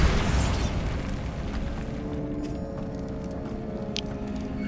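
Bombarda spell explosion in Hogwarts Legacy: a loud, close boom bursts at the start and then rumbles away into a long decaying tail, with a few light clatters afterward.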